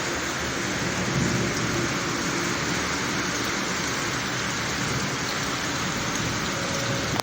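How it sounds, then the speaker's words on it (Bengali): Heavy rain heard from a balcony pours in a steady, dense roar, with low rumbling thunder underneath throughout. "বাইরে প্রচণ্ড বৃষ্টি হচ্ছে, মেঘ ডাকছে"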